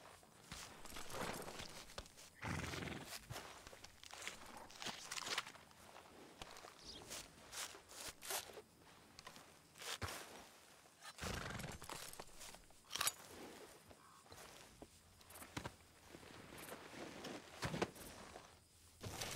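Horse hooves from Red Dead Redemption 2 thud along in a steady, close walking rhythm with scattered crunchy steps, and no clear neigh stands out above the gait.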